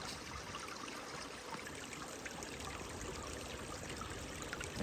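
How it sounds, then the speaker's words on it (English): Water flows through the remains of an old wooden box culvert on a rail line, a faint, steady broadband trickle and rush heard from nearby without pause and without talk. "And the water's still flowing through there"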